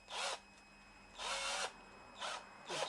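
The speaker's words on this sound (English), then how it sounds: "very unhappy sort of drilling process" A hand-held power drill reams out the undersized centre hole of a 3D-printed part gripped with a shifter: four short, close, whining bursts separated by brief pauses, with no talking.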